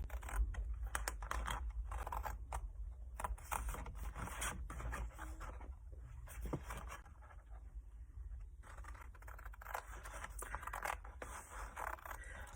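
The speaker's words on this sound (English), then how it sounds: "I'm going to trim down very carefully down each of these score lines." Careful trimming of paper card along score lines, with faint, close, irregular clicks and scratchy cuts repeating steadily in a quiet room, no voices.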